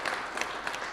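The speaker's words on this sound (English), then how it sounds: "Did we give her a round of applause?" Audience clapping after a presentation at a maternal and child nutrition symposium, a dense, fairly close burst of applause with a few sharper claps, lasting about a second.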